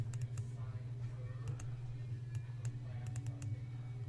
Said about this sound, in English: I'm going to double click that